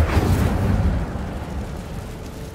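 An Incendio fire spell cast in Hogwarts Legacy bursts out as a loud, close whoosh-boom of flame that swells at once and then rolls away into a fading rumble over a couple of seconds.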